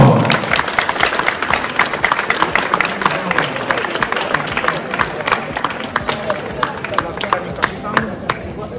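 A crowd at a 2023 Easter tournament in Trzebnica applauds a placing team with steady, dense clapping that carries on throughout, while a presenter speaks over it.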